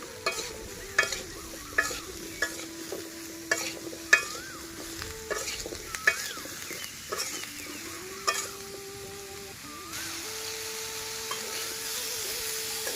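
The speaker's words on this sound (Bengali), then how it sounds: "প্রথমে আমরা হচ্ছে বেগুনগুলোকে ভেজে নিব" Eggplant pieces fry in a pan with a constant low sizzle, and a spoon knocks and scrapes against the pan in regular stirring strokes, close and clear, with the frying growing steadier toward the end.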